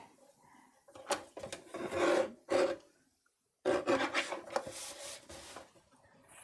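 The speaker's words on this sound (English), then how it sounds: "I'm going to trim down a panel for the front of my card" Paper panel being trimmed for the front of a handmade card, several close scraping, rasping strokes in bursts separated by brief pauses, no talk.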